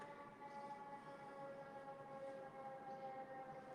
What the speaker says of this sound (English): Sorry if you guys hear that siren in the background.